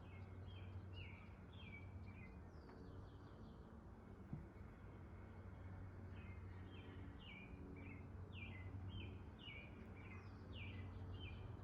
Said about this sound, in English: we also have a lot of robins chirping right now